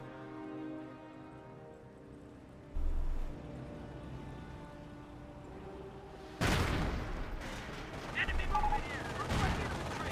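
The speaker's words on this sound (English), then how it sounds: "MG42 hits these engineers." MG42 machine gun fire rattles in the Company of Heroes 1 battle game, with a heavy burst near the middle and louder sustained firing later amid other combat noise, while a voice talks over it.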